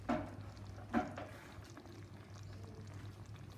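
Hot water poured from a kettle in a kitchen, a soft, steady liquid stream with two brief splashes at the start, quiet and close with no talk.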